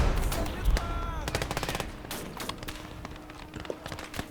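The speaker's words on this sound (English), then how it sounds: "Oh, I forgot about this machine gun that's submerged." Rapid machine gun bursts ring out in the urban battle game Gates of Hell, loud and dense, mixed with thuds and distant gunfire throughout an ongoing firefight.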